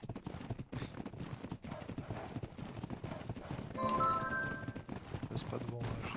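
Horse hooves clip-clop in the ARK survival game with the Alemia mod, a steady rhythm of close hoofbeats under ongoing game sounds and background music, with a brief tonal chime partway through.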